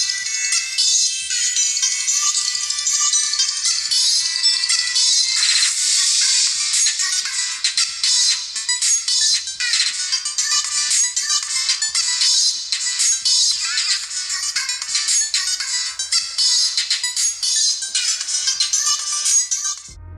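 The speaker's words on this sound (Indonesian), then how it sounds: "Nah untuk hasil suara speakernya kayak gini nih." Tinny playback from the tiny speaker of a BM200 mini phone, thumb-sized, a continuous thin, trebly ringtone-like music with no bass, steady and fairly loud for twenty seconds.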